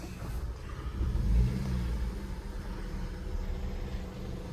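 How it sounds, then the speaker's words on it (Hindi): A Hyundai i20 on a test drive after gearbox and clutch repair: a low, muffled engine rumble that swells briefly as it pulls away, then settles into a steady drone, no talking. "तो फाइनली गाइस हमने गाड़ी को बाहर निकाल दिया, अब चलते हैं इसकी टेस्ट ड्राइव के लिए।"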